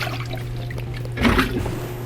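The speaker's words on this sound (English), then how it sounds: "I suppose I should rinse that dirt out of here" Water runs through a water filter test container to rinse dirt out, a short close splash and trickle over a steady background hum, swelling briefly midway.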